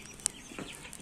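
Chickens and roosters clucking softly from a cage, a few faint, brief calls with quiet background.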